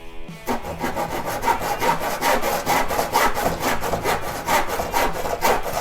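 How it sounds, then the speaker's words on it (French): A hand saw rasps through wood in steady back-and-forth strokes, close and loud, with an even rhythm throughout. "si je le teste avec une scie classique"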